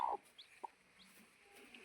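Chickens on a farm with roosters cluck faintly at a distance, a couple of brief soft clucks over a quiet background.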